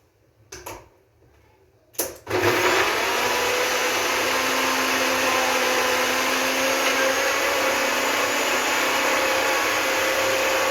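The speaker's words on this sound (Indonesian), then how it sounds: "Sekarang kita blender aja." A kitchen blender blending a drink, starting with a couple of clunks and a brief burst, then spinning up to a loud, steady whir that runs on evenly without talk.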